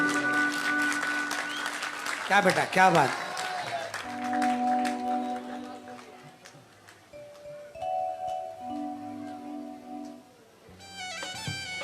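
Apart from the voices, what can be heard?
audience applause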